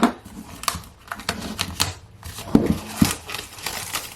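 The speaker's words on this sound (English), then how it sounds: "So I'm just going to open it now. It's still like in its like little cellophane case." Crinkly cellophane wrapping is opened from around a LaRoc Cosmetics Pro Artistry makeup palette, heard as close, irregular crackles and sharp snapping rustles with a few louder pops near the end, without any talking.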